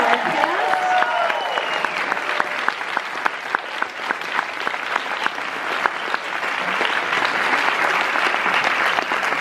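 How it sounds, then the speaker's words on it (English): An audience applauds at the end of a school musical, Guys & Dolls Jr., with sustained dense clapping from a large crowd filling the room, steady and loud throughout. "our second huge round of applause goes to our crew"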